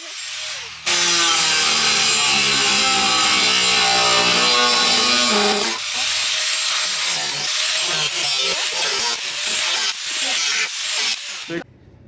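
A cutting disc slices through a Mazda Miata body panel during a rebuild. It gives a loud, steady, close-up grinding whine, then breaks into choppy, stuttering bursts as the cut finishes. No one speaks.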